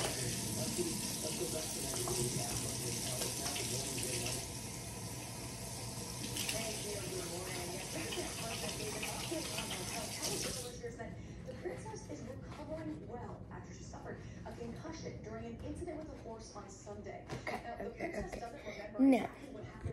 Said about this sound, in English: Now I gotta go wash my hands, then I'll whisk it.